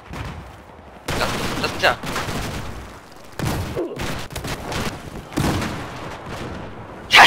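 Gunfire and explosions from a Battlefield 4 multiplayer match crack in repeated bursts and booms, some near and loud, with players talking over the shooting.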